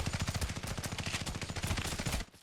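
Rapid assault rifle fire from the video game Island Combat, a steady close burst of evenly spaced shots that runs for about two seconds, then cuts off abruptly.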